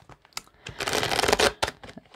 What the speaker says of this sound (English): Just while I'm shuffling,